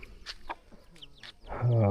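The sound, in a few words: chickens clucking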